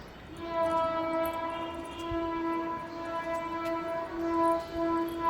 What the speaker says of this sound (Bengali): ওই দেখো গাইজ আর ট্রেন আসছে।